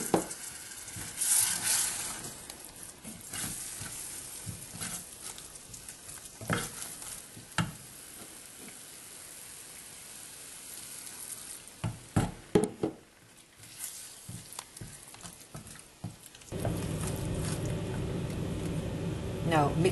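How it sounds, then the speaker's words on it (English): Hot milk stirred slowly into a flour roux for chicken croquetas, with a steady pan sizzle and soft stirring and squishing that swell into a louder, denser bubbling hiss toward the end. "I'm going to add the milk very slowly, and I'm going to stir it in well as I do so."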